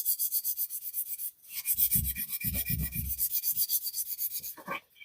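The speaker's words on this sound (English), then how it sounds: "So we'll Scotch brite the whole thing up" Grey Scotch-Brite pad rubbing over a sandblasted diecast Ertl A-Team van body, a steady rapid rhythmic scrubbing with a brief pause partway, close and fairly loud, no voices.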